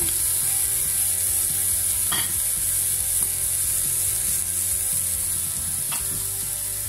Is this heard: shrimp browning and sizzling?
yes